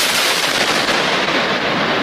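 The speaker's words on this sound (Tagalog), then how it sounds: "Sadyang pinasabog ng mga otoridad ang aabot sa 6 na toneladang dinamita sa Bagong Bayan, Sultan Kudarat" Controlled detonation of about six tons of dynamite in Bagong Bayan, Sultan Kudarat, a loud, dense roaring blast that fills the whole moment with continuous rumbling, crackling noise.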